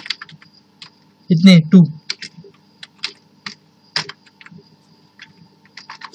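Computer keyboard keys tapped in short bursts while entering Visual Basic .NET code, crisp clicks spread across the clip, with someone speaking briefly near the start.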